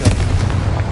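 A Confringo fire spell blast from the video game Hogwarts Legacy, a loud, sharp burst with a booming low rumble that fills the brief moment on its own.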